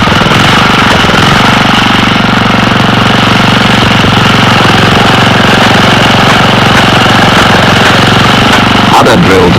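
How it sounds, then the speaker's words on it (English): A drill water pump engine runs steadily on a mountainside at a Bougainville drilling site, a loud, continuous mechanical drone with a rough, knocking texture that holds for the whole stretch, a brief clatter near the end. "soon the men have the drill water pump working"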